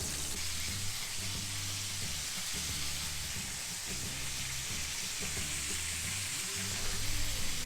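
Pork chops frying in hot grease at medium-high heat, a steady close crackling sizzle that holds evenly throughout with no talking.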